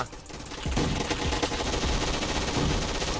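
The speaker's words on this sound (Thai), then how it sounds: "นี่คือเขายิงกันหน้าบ้านเหรอ" Relentless rapid-fire gunshots in a Roblox shooter, near and loud, with overlapping bursts forming a continuous rattling barrage throughout.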